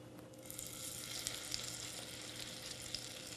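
Okra fries in a hot pan, giving off a steady, soft sizzle with faint crackles and pops and no voices.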